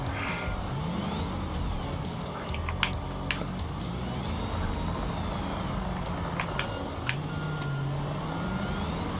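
A construction truck in Construction Simulator Europe, working on a noise barrier job: it moves with a steady engine drone under a repeating electronic reversing beep, sporadic clanks and a rising and falling motor pitch, with no voices.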